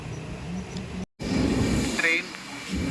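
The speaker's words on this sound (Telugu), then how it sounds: "దిస్ ఈజ్ వాస్కో పాట్నా వెళ్ళే ట్రైన్ అనమాట ఇది." The Vasco–Patna express runs on Konkan Railway track in Goa, heading north, with a steady rumbling roar and hiss close by that drops out briefly and returns, and a voice talks over it.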